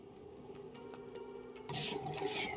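Water fills pipes in the colony-building game Oxygen Not Included, a faint gurgling, rushing trickle that grows fuller toward the end, with soft interface blips and no speech.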